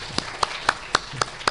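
A small audience at a research institute's alumni talk claps in slow, sparse, evenly spaced hand claps, about six distinct strikes, fairly close and moderately loud.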